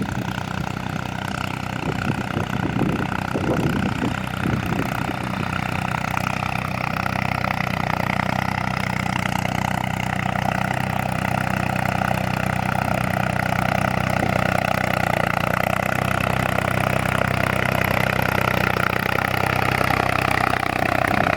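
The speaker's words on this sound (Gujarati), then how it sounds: "આ ટ્રેક્ટર ખેડવાનું કામ કરે." A tractor ploughing a farm field, its engine running steadily with a low rumbling drone and constant mid-pitched hum throughout, fairly close and uninterrupted, with no talking.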